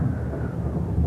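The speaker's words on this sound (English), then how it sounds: "if this storm don't stop pretty soon, I'm going to do something about it" A storm at sea rumbles with steady, heavy low thunder and rain noise, dense and continuous throughout without pauses.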